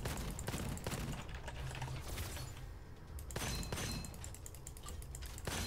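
Rapid gunfire from the shooter game Gunfire Reborn in a boss fight, a dense run of repeated shots with mechanical clanks and ratcheting reloads, steady and fairly loud throughout.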